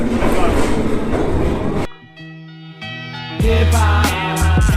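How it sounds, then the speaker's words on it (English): A London train pulls into a station, loud at first with broad rumble, then a quieter stretch with steady hum and tones before rumble and squeal return and hold to the end; no talk. "That's my train, so go."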